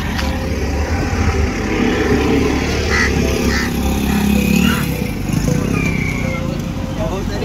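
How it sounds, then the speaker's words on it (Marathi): Cars and motorbikes roll one by one off a docked ferry. Steady engine drone and rumbling motor noise carry throughout at close range, and people talk over it. "आणि आता गाड्या एक एक उतरतील बघा."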